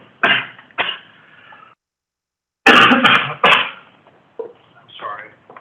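Several harsh, close coughs come in two bursts separated by a brief silence, followed by softer throat-clearing sounds.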